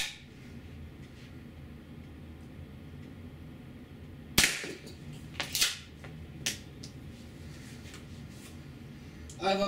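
An APS CAM870 CO2 pump-action airsoft shotgun fired with an 88g CO2 cartridge, shooting 0.68 caliber rubber balls: a few sharp cracks with a pumping clack, heard outdoors against steady background noise.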